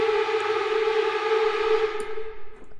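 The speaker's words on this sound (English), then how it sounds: "they could have done this with pre-recorded glissandi" A sustained, rich orchestral string glissando sample holds steady and then slides gently downward, ringing out with a touch of reverb before fading.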